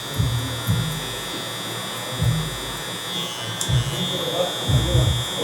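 Electric hair clippers buzz steadily in a barbershop while cutting a guideline, a constant high whine running throughout with low thumps and voices breaking in intermittently.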